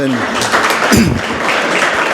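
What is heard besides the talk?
audience applause for city and county leaders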